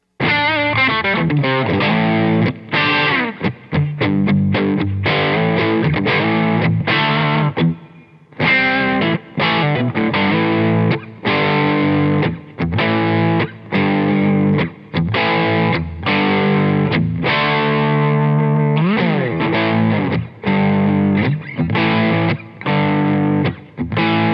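Electric guitar with a P.A.F.-style bridge pickup driven through overdrive, playing loud, sustained distorted chords and riffs with brief gaps, close and continuous with no talking.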